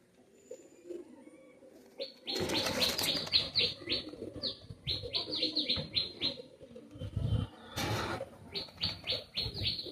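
Chinese Teddy and Pakistani high flyer pigeons in a pen, with repeated bird calls and chirping in bursts over a steady background of cooing and rustling, fairly close.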